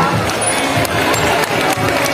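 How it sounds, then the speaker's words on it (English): Audience at a sea lion show at Manila Ocean Park applauds, a dense, steady wash of clapping and crowd noise filling the space at close range. "How about a round of applause for Isis and Ida?"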